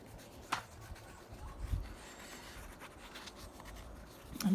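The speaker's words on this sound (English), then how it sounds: "I'm just adding in some graphite." An 8B graphite stick, Koh-i-Noor Hardtmuth, rubbing and scratching across paper in a mixed-media art journal spread, a soft steady scraping texture, close and quiet, with a couple of brief louder knocks.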